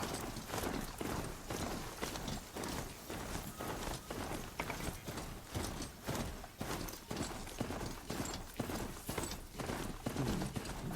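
Horse mount in the video game Horizon Zero Dawn trotting with steady, rapid clip-clop hoofbeats that stay close and loud throughout.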